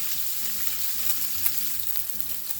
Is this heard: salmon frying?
yes